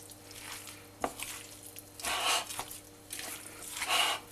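Raw chicken pieces for gyros mixed by hand with spices in a bowl, wet squelching and sloshing in irregular bursts, fairly close and quiet.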